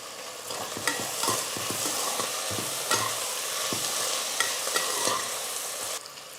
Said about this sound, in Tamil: கொஞ்சமாக உப்பு சேர்த்து வெங்காயம் நல்லா வதக்கிக்கலாம்